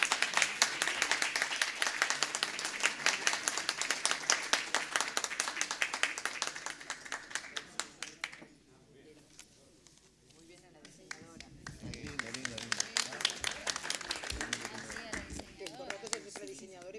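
Audience applause at a literary homage to Rubén Darío at the Biblioteca Nacional, a dense burst of clapping that fades out midway, followed by a quieter stretch and renewed clapping mixed with voices.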